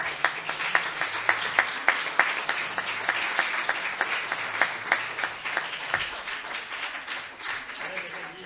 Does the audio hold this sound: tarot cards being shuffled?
no